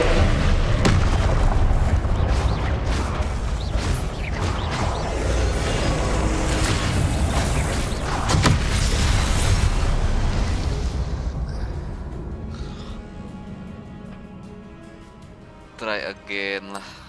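Fire spell explosions boom loudly and repeatedly in Hogwarts Legacy gameplay, dense rumbling blasts filling most of the stretch before fading, with a voice talking over the action.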